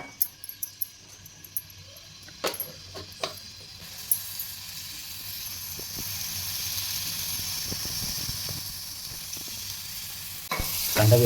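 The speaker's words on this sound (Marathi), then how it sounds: "आपण सर्वप्रथम आता कांदा टाकणार आहोत" Chopped onion dropped into hot oil for a prawn fry, giving a steady, moderately quiet sizzle with scattered stirring clicks and spatula taps early on, building slightly toward the end.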